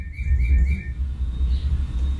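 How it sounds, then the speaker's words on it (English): A bird-song clock chirps in repeated bright high tweets over the first second, then fades into a low steady hum from a kitchen where marshmallow treats are being made. "Sorry, my bird clock is going to town."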